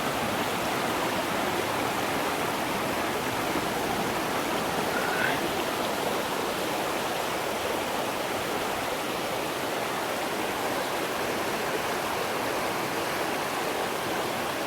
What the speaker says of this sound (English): I think that's the main waterfall.